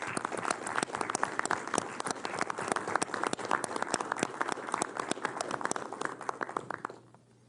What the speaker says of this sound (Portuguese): eu queria quebrar o protocolo e solicitar a todos uma salva de palmas para esse pessoal